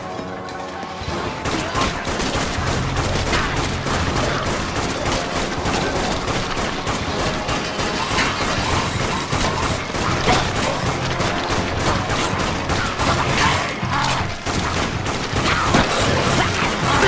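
Rifle fire in the zombie shooter Dead Nation, a loud, dense, continuous volley of rapid shots sustained for the whole stretch, with mechanical clatter and crashing impacts mixed in and no talking.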